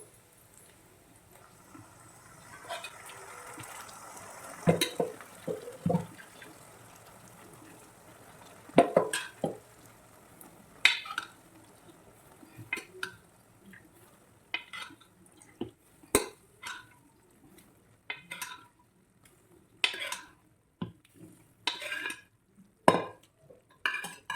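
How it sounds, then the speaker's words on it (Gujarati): Boiled green mung beans tip into a pan and get stirred over a low flame, a series of scattered metallic scrapes and clinks from a spoon against the pan, close and unhurried, with a faint wet sizzle beneath and no talking. "હવે આપણે આમાં જે મગ બનાવેલા હતા, બાફેલા હતા, તે નાખી દઈશું"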